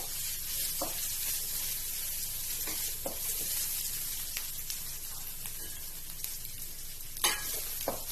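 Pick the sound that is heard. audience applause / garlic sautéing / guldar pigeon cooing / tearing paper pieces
garlic sautéing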